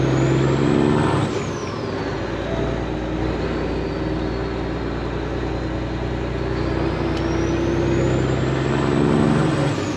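A semi truck with straight pipes drives along a countryside road, its deep, loud exhaust drone rumbling steadily throughout, with a brief hiss of air near the start and no talk.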